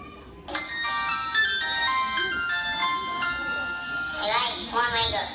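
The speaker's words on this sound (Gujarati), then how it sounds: "ભાઈ ફોન આવી ગયો, ફોન ઉપાડો ને" A phone ringtone plays during a Diwali stage play, a bright repeating electronic melody that starts abruptly and keeps looping loudly, with voices talking and reacting underneath.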